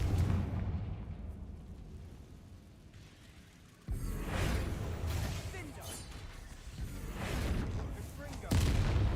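Confringo blast spell in Hogwarts Legacy, a sudden loud explosive burst erupting from a quieter rumble, followed by booming crackle and a second blast, with a voice speaking around it.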